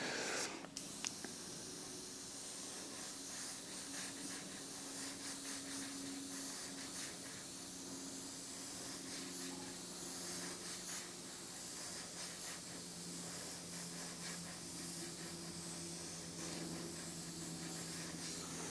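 An airbrush sprays paint onto a monochrome portrait in a continuous, soft, close hiss that runs almost unbroken for the whole stretch, with only a brief interruption near the start.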